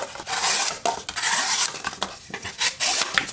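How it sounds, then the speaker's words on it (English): An SRM Rubik 7228B-AB knife slices through cardboard with a run of dry scraping, rasping strokes, close and fairly loud, with short bursts and brief pauses between cuts. "slicing through that cardboard like butter"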